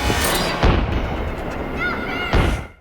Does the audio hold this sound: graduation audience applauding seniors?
no